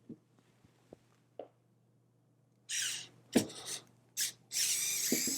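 Screws being unscrewed from the plexiglass panel of an arcade machine, a few faint ticks followed by louder close bursts of rasping, rubbing metal-on-plastic friction.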